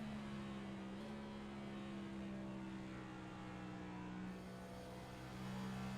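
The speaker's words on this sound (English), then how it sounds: "Weird hearing a downshift at Phoenix." Onboard engine of a Next-Gen Cup race car at Phoenix drops a gear into fourth, a steady loud droning roar that shifts pitch early and again later, continuing unbroken without voices.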